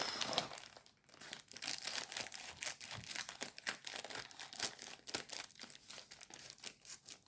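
Plastic packaging from a Temu parcel crinkles and rustles up close as it is torn open, a busy stream of crackles and crumples that continues throughout.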